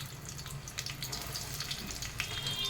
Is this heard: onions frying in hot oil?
yes